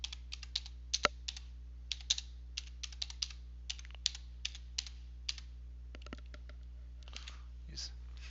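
Typing on a computer keyboard while filling in a document: a long run of light, crisp key clicks in uneven bursts, close and fairly quiet, with a soft voice murmuring near the end.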